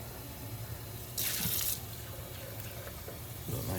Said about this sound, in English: Let me just rinse this out a little bit here.